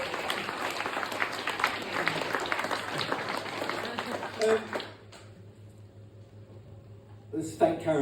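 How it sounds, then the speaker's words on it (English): An audience applauds at a prom speeches and awards night for a 25th anniversary celebration, a dense, steady clapping that runs for about five seconds under a voice, then gives way to a quieter pause before a fresh burst of clapping. "Give her a round of applause."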